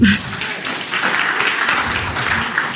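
A church congregation claps and cheers for Jesus in a dense, sustained burst of applause, with voices mixed into the crowd noise throughout.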